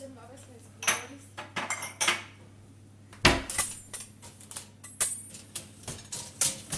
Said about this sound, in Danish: Vi var afholde mesterskaber i, hvem der kan tømme opvaskemaskinen hurtigst.